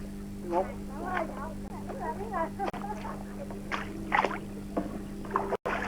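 A small boat moves along a canal in the Mekong area of Vietnam with a steady engine drone beneath it, while people talk nearby throughout.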